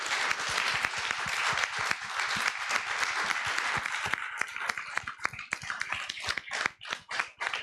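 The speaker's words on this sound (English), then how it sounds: "Can we give everybody a round of applause?" An audience at a women screenwriters' filmmaker panel claps in sustained, dense applause that thins into scattered individual claps toward the end.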